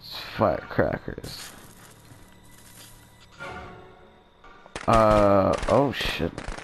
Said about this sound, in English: It's firecrackers.